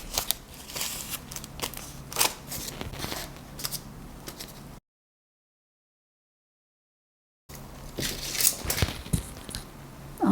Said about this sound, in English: Let me grab some foil.